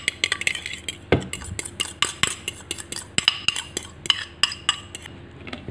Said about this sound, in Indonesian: Kita aduk membalik lagi teman-teman.